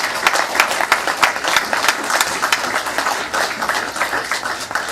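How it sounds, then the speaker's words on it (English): A crowd at a political event in Bolton, Connecticut gives a round of applause for the candidates running, steady dense clapping throughout, fairly loud and without talk. "Let's give all the candidates who are running a round of applause."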